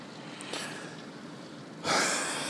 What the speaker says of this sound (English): It just started raining like 2 minutes ago.